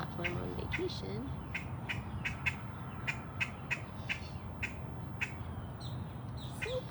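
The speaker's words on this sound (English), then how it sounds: "You have very noisy birds above you, though" Noisy birds squawking overhead at a big cat sanctuary, sharp repeated calls at a steady rhythm over a constant hum of outdoor ambience, with a voice talking underneath.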